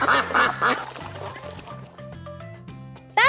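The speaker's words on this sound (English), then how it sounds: "That's right, a duck." A duck quacks loudly in a few quick, raspy bursts near the start, then quieter calls follow over a steady musical backing, ending in a sudden bright rising call.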